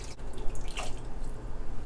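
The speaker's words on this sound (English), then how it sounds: "Now I'm just going in with the cold water because they've been sitting out for a while now and the wings are already cold." Four cups of cold water poured into a pot of duck wings for braising, a close, continuous splashing pour lasting a couple of seconds.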